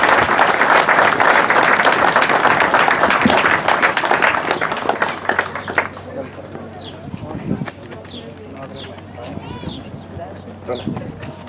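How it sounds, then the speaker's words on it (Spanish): An outdoor crowd at a posthumous tribute ceremony for football figures bursts into loud applause that fades after about five seconds, leaving scattered claps, bird calls and background voices. "Fuerte el aplauso para Naro, al viejito renegado de Genaro."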